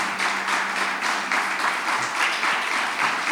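Applause from a church congregation comes in as moderate, steady clapping with no break. It sounds mid-distance and fairly soft.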